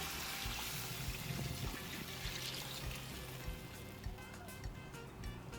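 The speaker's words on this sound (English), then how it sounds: "Now add in enough water to create a sauce." Water pours and trickles into a pan of curry, a soft continuous splashing that tapers off into light drips and clinks.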